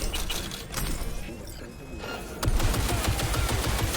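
A big gun fires in the video game Cyberpunk 2077: close, loud automatic bursts, then a brief lull, then a denser stream of rapid heavy shots that runs to the end.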